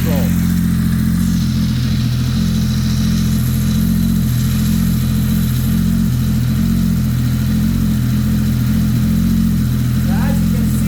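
A Ski-Doo 1200 XR snowmobile engine held in launch control, loud and close, with a steady low rumbling drone throughout and no throttle changes.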